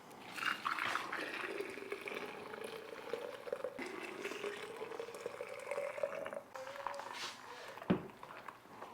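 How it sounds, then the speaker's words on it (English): Hot turkey broth pours into canning jars, a running liquid stream with a rising gurgling tone as each jar fills, then a brief clink, fairly quiet and close. "We're going to fill them up and get them into the pressure canner"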